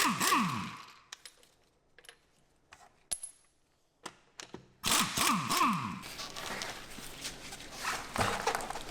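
The wheel hub cap on an Audi Q7 is pried out, giving scattered metallic clicks and taps, a short scraping clatter, and a louder burst of rattling handling noise close by.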